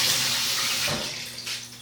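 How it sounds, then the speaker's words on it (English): Water running from a kitchen tap as hands are washed, a steady close hiss and splash that dips briefly and picks up again, with no talking. "Wash your hands."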